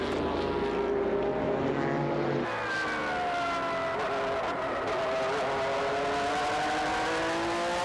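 GT race cars weighing over 1,100 kg race at high speed around Fuji circuit, engines loud and close, with rising and falling revs as they sweep past in a continuous roar, one car shifting gear midway.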